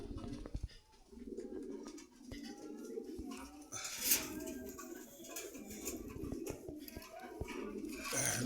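Pigeons of the doel dobaj type coo steadily at a busy Dhaka bird market in Rampura Meradia, their soft, repeated calls continuous and fairly close against a low murmur of market background.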